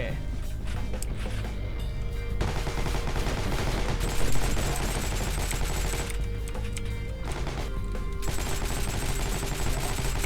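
Thompson M1A1 submachine gun fire in the video game Heroes & Generals, a dense continuous stream of automatic bursts that holds steady at the same level throughout, with no pauses between them.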